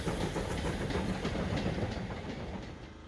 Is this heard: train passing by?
yes